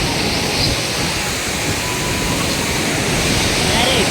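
Water overflowing the weir at Eduluru makes a steady, loud, broadband rush that fills the scene without letting up.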